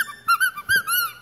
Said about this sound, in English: Kong squeaker ball. Best toy ever. Get the size that you can squeak.